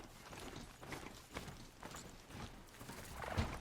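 Horse hooves clip-clop in a steady running rhythm while riding in the video game Horizon Zero Dawn, a continuous moderate patter under soft ambient game sound, with no talking.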